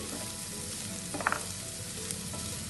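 Carrots fry for ragi roti in a pan with a faint, steady sizzle, and a few soft stirring clinks sound near the middle. No one speaks.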